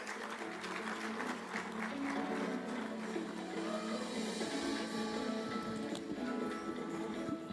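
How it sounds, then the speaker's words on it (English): Audience applause at a health-sector conference session as the international president of a medical lab walks onto the stage, steady dense clapping filling the room for several seconds with faint background chatter. "Let's accompany her with a hearty clap."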